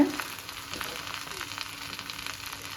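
Kerala style Kolla milagai chilli peppers fry in a pan with a steady, soft sizzle and crackle, close and continuous, with no talk.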